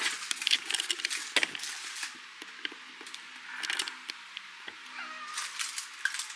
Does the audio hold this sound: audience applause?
no